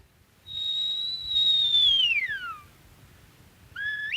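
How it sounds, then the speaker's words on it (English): A clear whistle from an old radio programme intro holds a high steady note, then slides downward, followed by a short rising whistled phrase, alone against faint background hum. "a lot of the programs were prefixed with, "We present Open Country," which started with a whistle"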